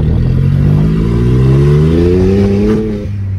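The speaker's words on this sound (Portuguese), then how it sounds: "Abri pra vocês ouvir o barulho do escape, sei que vocês gostam." A modified Volkswagen up! with a stage 3 tune revs under light throttle, the exhaust giving a loud, close droning note that climbs steadily in pitch, then settles back to idle at the end.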